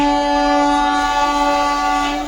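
The KSR Bengaluru–Mysuru Rajarani Express passes alongside, heard from inside a train carriage: a loud, sustained horn blast rings out over a steady rumbling rail roar.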